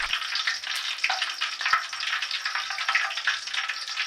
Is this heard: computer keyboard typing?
no